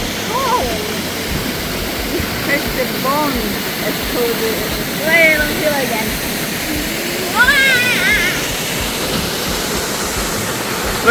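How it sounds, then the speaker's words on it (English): The Pistyll Rhaeadr waterfall in Wales rushes with a steady, full roar of falling water, while birds chirp faintly above the constant wash. "And the waterfalls. Stunning."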